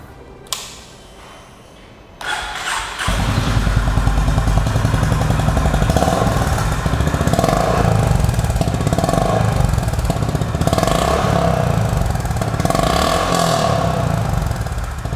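A Honda H'ness CB350 motorcycle engine cranks and fires up, then settles into a loud, thumpy exhaust idle that keeps running steadily.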